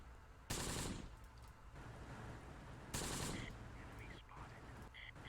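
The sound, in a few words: mortar barrage in Close Combat: The Bloody First video game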